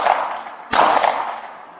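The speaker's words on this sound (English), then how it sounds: "Both parties exchange gunfire, and Brian" A single sharp gunshot cracks during a police shootout, a loud abrupt bang cutting through a steady background hiss, with a brief tail after it.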